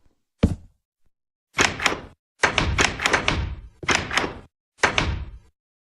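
A noise trap made by exploiting a door hitbox glitch in a video game, giving a single sharp thunk followed by four clusters of loud, rapid door bangs and thuds in an irregular rhythm.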